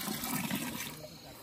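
Water is poured into vegetable curry cooking in a pot, giving a brief steady rush and splash at moderate level with no speech.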